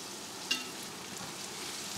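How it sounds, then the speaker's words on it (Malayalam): Onions dropped into hot oil for karimeen mappas hiss in a steady, soft sizzle, with a faint clink near the start and another at the end, no voices. "എണ്ണ ചൂടായി, ഇനി നമുക്ക് സബോള ഇടാം."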